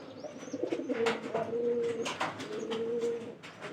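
Pigeons coo in low, throaty, repeated calls that overlap continuously, close by, with faint chirps and rustling in the background.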